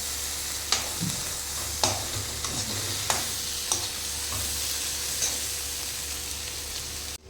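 Masala frying in a pan for Hyderabad paneer masala, a continuous close sizzle broken by periodic scraping knocks of a spatula stirring it, with no talking.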